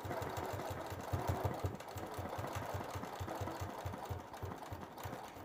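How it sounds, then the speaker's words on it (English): A sewing machine quilting along a ruler: a rapid, even chugging of stitches under a steady motor drone, close and continuous throughout with no speech. "So as I'm quilting, notice I just want to stay right on that line"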